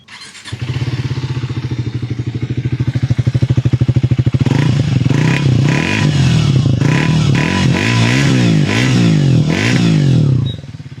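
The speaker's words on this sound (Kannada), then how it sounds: "ಎಕ್ಸಾಸ್ಟ್ ನೋಟ್ ಅಲ್ಲಿ ಏನಾದ್ರು ಒಂಥರ ಸೌಂಡ್ ಏನಾದ್ರು ಚೇಂಜಸ್ ಅನ್ಸುತ್ತಾ ಏನು" A Triumph 350cc motorcycle engine starts and settles into a steady, loud thumping idle, then is blipped in a series of quick revs that rise and fall before cutting off near the end.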